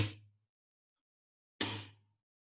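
Two sharp thumb slaps on an acoustic guitar string, flamenco-funk style, about 1.6 seconds apart, each a bright percussive snap with a short low thud that dies away quickly, close and fairly quiet with silence between.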